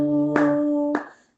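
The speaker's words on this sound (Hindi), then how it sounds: "सारे मिलकर ताली बजाओ" Two sharp hand claps land about half a second apart during a Hindi devotional hymn of praise, heard over sustained instrumental drone tones that fade out afterward.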